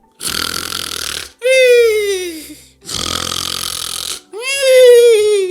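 A voice imitates loud snoring: two long rasping inhales, each followed by a whistling, falling exhale, repeated in a slow rhythm.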